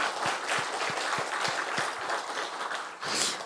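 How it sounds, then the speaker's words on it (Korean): A church congregation applauds in celebration during a Sunday service, with a fairly quiet, even patter of clapping and a few distinct claps standing out near the start. "수고하신 모든 분들이 한번 축하의 박수 한번 해주시면 좋겠습니다"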